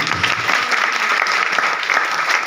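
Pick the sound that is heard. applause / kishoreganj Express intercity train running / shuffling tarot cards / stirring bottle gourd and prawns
applause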